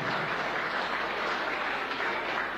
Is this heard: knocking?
no